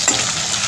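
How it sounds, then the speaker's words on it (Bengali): Prawns frying in a pan in a home kitchen give a steady, close, continuous sizzle and hiss with no pauses, loud and alone for a brief moment. "আর এইদিকে চিংড়ি মাছগুলো ভাজা হচ্ছে।"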